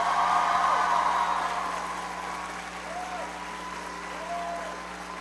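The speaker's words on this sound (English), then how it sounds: "Please give her a big round of applause." Applause from a crowd, dense and steady at first, then gradually thinning and fading toward the end.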